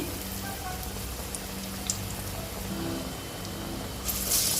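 Vada fritters frying in hot oil, a continuous soft sizzle and bubbling at close range with occasional small pops, growing slightly louder near the end.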